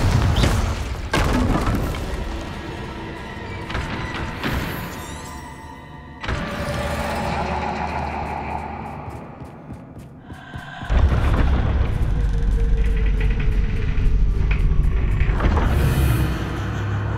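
Confringo blasting spells in the video game Hogwarts Legacy go off as heavy booming explosions, one after another at intervals, with rumbling tails and debris, loud and close over game ambience.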